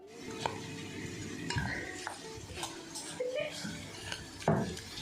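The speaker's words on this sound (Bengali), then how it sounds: "এমন করে চামচ দিয়ে মেখে না ঠিক শান্তি হয় না" A spoon mixes puffed rice and curry in a bowl, clinking and scraping against the dish in uneven bursts, with faint voices in the background.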